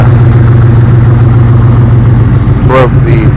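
A 2000 Chevrolet Camaro Z28 V8 with an unfinished exhaust idles loud and steady with a deep rumble, then gives a brief sharp rev near the end.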